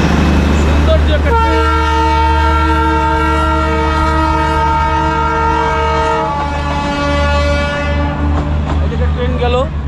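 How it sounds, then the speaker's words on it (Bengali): Near a Darjeeling line, a passing train gives one long, loud horn blast over a steady low engine rumble, the horn cutting off partway through while the rolling drone continues. "ট্রেন গেল, আর একটা ট্রেন আসছে।"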